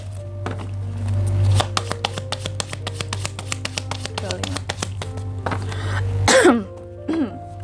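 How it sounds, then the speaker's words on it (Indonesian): A steady hum with dense clicking and tapping, then one sharp cough close to the microphone, followed by a smaller throat sound. "sorry teman-teman, aku batuk"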